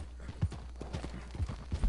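Horse hooves clip-clopping in the video game Red Dead Redemption 2, a quick irregular run of soft thuds over a low background rumble, fairly close and moderate in loudness.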